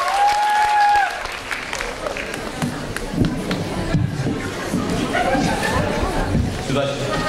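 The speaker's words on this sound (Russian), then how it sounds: "Аплодисменты!" An audience applauds a folk ensemble at a district concert, steady clapping filling the room while voices talk over it.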